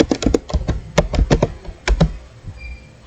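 Close, crisp keystrokes on a computer keyboard tap out in quick irregular bursts, with a short pause before a final cluster of presses.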